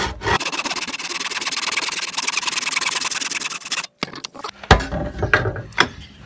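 Hand saw cutting a piece of wood clamped in a vise for a tee halving joint, a continuous loud rasping stroke followed by a pause and then shorter, irregular sawing strokes.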